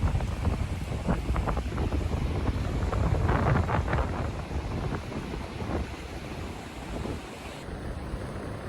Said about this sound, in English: It was a slightly windy day.